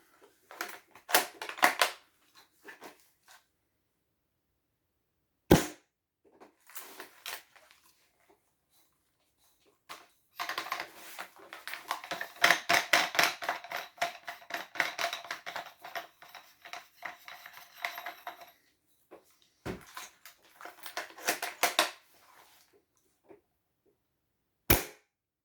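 An airsoft gun fitted with a suppressor fires in short sharp cracks, isolated single shots and dense rapid bursts, each carrying a snappy spring-and-piston clack, fairly close with quiet gaps between volleys.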